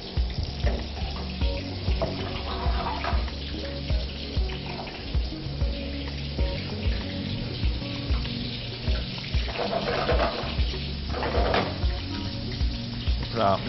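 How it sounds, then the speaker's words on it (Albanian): Prosciutto frying in a little oil in a pan in a TV cooking segment, giving a steady, fairly loud sizzle with bursts of crackle and occasional clinks, alone without talk. "Dhe do ta skuqim në një tigan tjetër."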